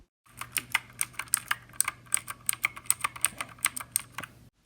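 Quick, crisp clicks of a wired mechanical computer keyboard being typed on, an uneven run of close keystrokes over a faint steady hum.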